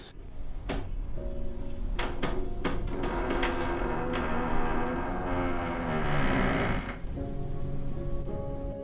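An outside door of an old collector's house gives a few sharp knocks and clicks, then a long, fairly loud creaking groan that swells and fades over several seconds, with no talking.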